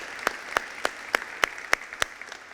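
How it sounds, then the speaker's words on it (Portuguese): A church congregation at a Sunday service claps in slow unison, about eight evenly spaced beats fading slightly at the end, fairly faint and without talk. "Vamos dar uma salva de palmas para Jesus?"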